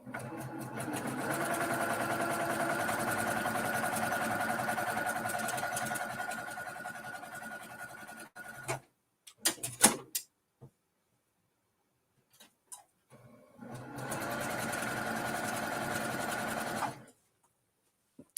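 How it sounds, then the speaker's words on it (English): Sewing machine stitching along quilt lines in a steady running whir, two long bursts separated by a pause of scattered clicks and handling knocks, close and fairly loud. "I'm going to sew on the lines."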